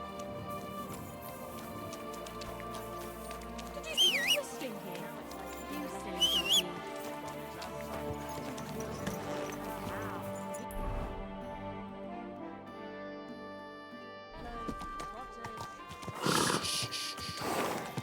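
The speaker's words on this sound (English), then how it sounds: "Horse." In the medieval game Kingdom Come: Deliverance II, a horse whinnies twice, with hooves clip-clopping at times over a soft background of game music and ambience. Near the end come louder snorts and movement.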